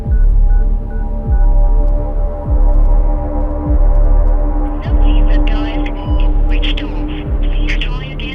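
A short telephone tone pulses a few times at the start, over a loud, steady low hum and rhythmic throbbing bass sweeps.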